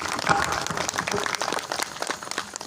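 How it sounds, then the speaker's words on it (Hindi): An audience at a Rotary club gathering applauds the district representative. The clapping is brief and moderately loud, a busy patter of hands lasting a few seconds. "बहुत सारी तालियां होनी चाहिए हमारे DRR के लिए"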